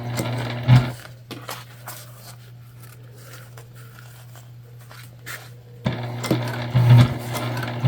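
A Juki sewing machine stitches a slip pocket on a bag in short bursts near the start and end, with a low steady hum and a few soft handling noises in between.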